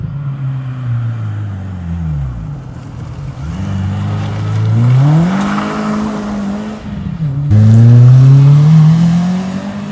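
A Renault Clio 2 RS engine revs repeatedly with a raspy, rally-like tone, rising and falling in several loud pulls that climb higher near the end, heard close and alone.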